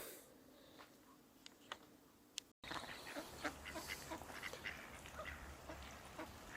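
Ducks on a river give faint, scattered quacks and calls against a soft outdoor background, with a brief dropout partway through.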